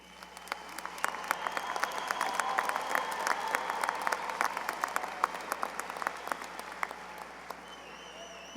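Graduating class and audience at the 2017 Stevenson High School graduation ceremony break into applause, sharp individual claps rising into a full crowd ovation that swells, then slowly thins toward the end.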